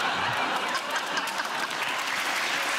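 A studio audience at a comedy panel show applauds loudly and continuously, a dense wash of clapping filling the whole moment.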